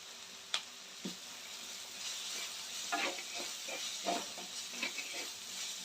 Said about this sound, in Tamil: பெருங்காயம் சேர்த்து கொஞ்சம் நல்லா கலரி விடுங்க